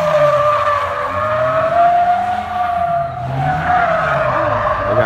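A Slingshot three-wheeler skids through a driving demonstration at the SEMA Show at the Las Vegas Convention Center. Loud, sustained tire squeal wavers over the engine note throughout, with no talking.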